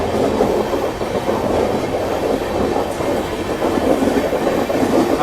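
Indian Railways Danapur–Anand Vihar Jan Sadharan Express passenger train rolling along the tracks near the Delhi line junction, a steady, loud, continuous rumble with rhythmic wheel clatter throughout, no voices.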